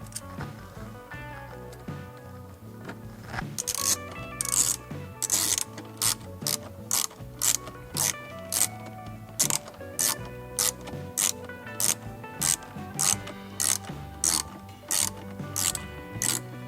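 A ratchet with a 7mm socket drives long screws back in on a SAAB 9-5 New Generation during a cabin air filter replacement: after a quieter start, close, rapid clicking comes in steady repeated bursts over a faint tonal background.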